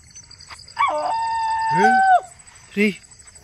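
At night in an open place, a jackal or dog lets out a clear, wavering howl that rises and bends, followed by a shorter cry, fairly close and loud against a quiet background.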